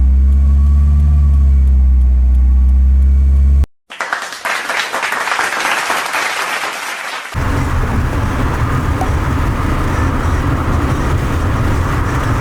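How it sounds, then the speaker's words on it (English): A car engine sputters under hard acceleration at high RPM on a road trip to LA. A steady low hum cuts out briefly, then a loud, rough roar takes over and deepens into heavy rumbling for the last five seconds, with no talk. "It's sputtering under acceleration."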